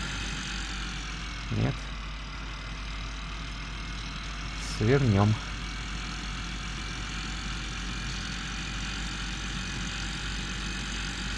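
A motorcycle engine in Farming Simulator 15 runs at a steady, even drone throughout. Brief speech cuts in twice over it.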